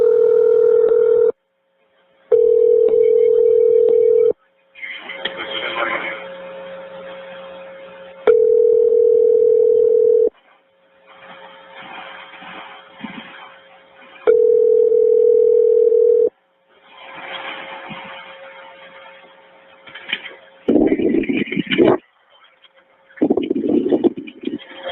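Telephone ringing on an outgoing call, repeated long steady ring tones separated by pauses, loud and close, with bursts of other noise between rings and near the end.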